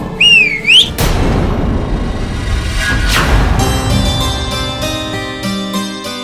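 A person whistles a quick rising, wavering phrase up close, followed by a loud boom and a sweeping musical swell in a TV serial scene.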